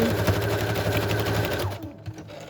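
Sewing machine stitching a fabric pocket onto a junk journal page; a close, steady mechanical whir with rapid needle pulses that stops after about two seconds.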